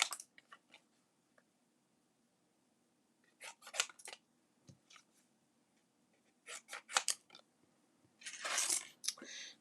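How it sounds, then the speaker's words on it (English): Scissors snip through craft material for snowflake card pieces, cutting it into sections in short bursts of crisp clicks and slices, close and fairly quiet with pauses between the cuts. "we're just going to cut these into sections so that they'll go through the die cut machine"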